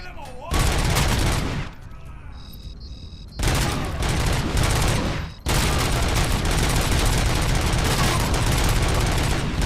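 Shotgun fire in the video game RoboCop: Rogue City: loud, dense bursts of blasts fill the clip, broken by two short lulls before the firing resumes.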